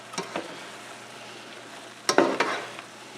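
A spoon stirs chopped steak ingredients with pepper in a frying pan, giving a few sharp scraping clatters over a soft, steady sizzle, close up and with no talking.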